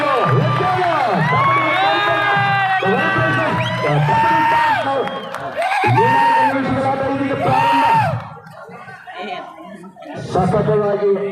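Spectators at a kabaddi match cheer and shout loudly, with many overlapping voices and whoops rising in bursts, dipping briefly near the end before surging again.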